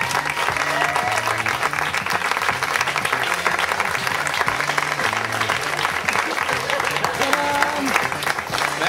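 An audience at a music camp festival applauds steadily throughout, with dense continuous clapping over faint background music.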